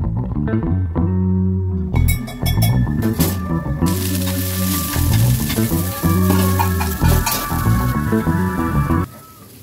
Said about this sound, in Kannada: ಮುಂಚೆ ಹಸಿಮೆಣಸಿನ್ಕಾಯಿ ಫ್ರೈ ಮಾಡ್ಕೊಳ್ಳೋಣ, ಹಾಗೆ ಪುದೀನೂ ಫ್ರೈ ಮಾಡ್ಕೊಳ್ಳೋಣ